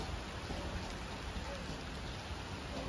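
Heavy rain pours steadily outside in a dense, continuous hiss with no breaks, loud and close throughout.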